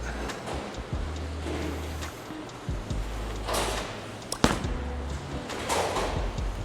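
A Hammer urethane bowling ball, NU Blue/Purple, rolls down a lane oiled in a 35-foot pattern with a low steady rumble, then strikes the pins with a sharp clatter midway, and the rumble carries on as the lane echoes.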